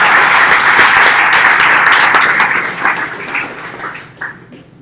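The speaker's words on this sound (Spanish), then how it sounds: "Un aplauso." An audience at a React Week conference in Medellín breaks into applause, dense and loud at first, then thinning into scattered claps as it dies away.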